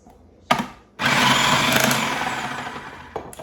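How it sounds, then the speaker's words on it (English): A food processor whizzes through kale and Brussels sprouts for a shaved salad, with a short burst of blade noise and then a loud, steady chopping roar for about two seconds. "I'm just going to whiz through all this kale"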